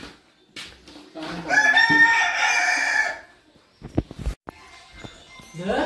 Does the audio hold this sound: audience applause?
no